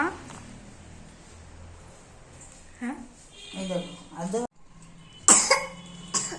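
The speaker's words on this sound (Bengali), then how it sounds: "কাশি পাচ্ছে" A young child coughs several times in short bursts at close range, with brief throat-clearing sounds between quiet stretches and some vocal sounds nearby.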